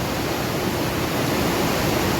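Rainwater rushing down over rocks after a downpour, a steady, loud, unbroken roar of flowing water heard up close, with no voices.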